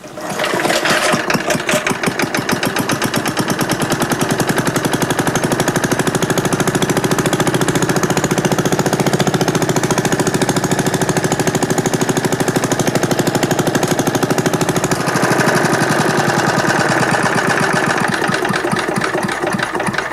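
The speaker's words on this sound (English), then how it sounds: "I'm going to start the generator up, and it'll be running in isolation" A small portable generator runs loud and close with a harsh, rapid engine clatter, then a sudden 1,300-watt load drags the engine note down and it keeps laboring steadily afterward.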